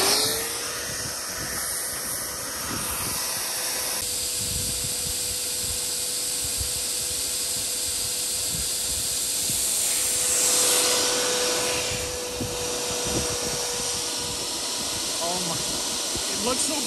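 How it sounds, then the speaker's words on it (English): A wet vacuum sucks water out of a clogged vent pipe, giving a steady, loud roar with a constant whine and hiss that swells and gurgles midway. "Let's just put the vacuum on here,"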